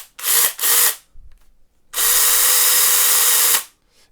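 A DINSHARE 20V electric chainsaw cutting wood for carving gives two short, loud whining bursts and then one longer, steady run, heard up close with no talking.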